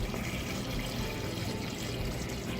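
Water pours steadily into a pot for chicken stock made with about six pounds of chicken thighs, a continuous close splashing fill with no talk over it.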